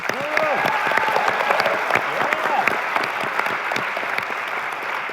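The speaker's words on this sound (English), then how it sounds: "everybody give them a big round of applause" A large audience at a university programming competition final tournament gives a big round of applause as teams come up to the stage, sustained dense clapping with crowd noise and some voices underneath.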